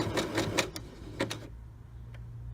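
A home sewing machine stitching a button on with black thread gives a quick burst of clattering needle strokes, then a short pause and a couple more taps, close and distinct with no talk.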